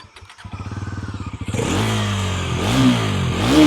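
Bajaj Pulsar NS 350Z motorcycle sitting in neutral: a ticking idle gives way to a loud, close rev that holds and rises in two throttle blips, with no talk over it.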